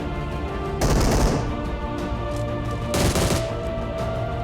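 Gunfire in a shooting video game: two loud bursts of rapid shots about two seconds apart over a steady game background, with no talking.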